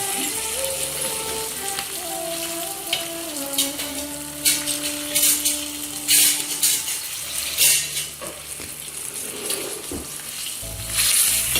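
Dried red chillies, curry leaves and asafoetida sizzling in hot oil on a very low flame for tempering, a steady close-up sizzle with bursts of sharper crackling and spitting.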